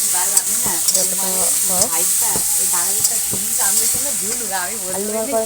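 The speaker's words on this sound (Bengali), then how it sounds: "টমেটো কুচিটা দিয়ে আমি আস্তে আস্তে নাড়বো টমেটো কুচিটাকে" Chopped tomato and vegetables stirred in a frying pan, with a soft sizzle under repeated scraping strokes of a spoon. Children's voices chatter and squeal nearby over the cooking noise.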